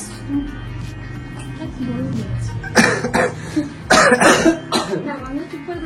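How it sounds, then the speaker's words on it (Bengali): Two loud bursts of coughing, close by, break into ongoing talk in a second-hand mobile phone shop, with quieter speech before and between them. "কাশিটাও দেওয়া হলো"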